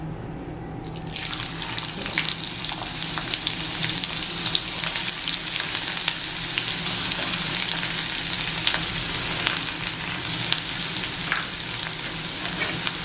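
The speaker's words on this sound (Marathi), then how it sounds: "आपल्याला कांदा परतून घ्यायचा" Onion frying in oil in a pan, a sizzle that bursts in suddenly and then runs dense and steady close to the mic, with stirring textures throughout.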